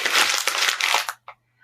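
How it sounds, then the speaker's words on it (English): A sheet of paper is crumpled in a single dense burst of crackling and crinkling for about a second, then a couple of brief, softer rustles follow, close and clear with no talking. "You could take a paper and crumple it."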